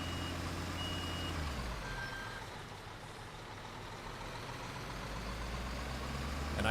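A truck idles with a steady low engine rumble while faint intermittent reversing beeps sound in the background, no talk over it.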